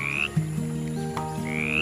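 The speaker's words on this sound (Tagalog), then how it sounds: "Sina Kuko at Coco ay magkaibigang palaka" A frog croaks close by, two short bright calls with a softer chirp between, over a quiet background hum.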